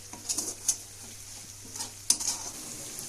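Peeled garlic frying in a pan, faint soft sizzle with intermittent scraping and clinks of a spoon stirring, quiet and close, no talking.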